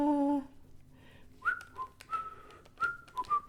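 Someone whistles a made-up tune, a string of clear sliding notes at close range, soft and unaccompanied after a brief tonal sound at the start.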